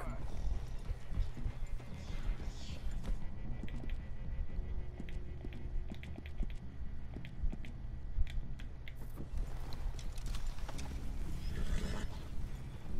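Steady clip-clop of horse hooves walking nearby in the video game Red Dead Redemption 2, with creaks and clinks of gear, under ongoing background noise; people talk intermittently.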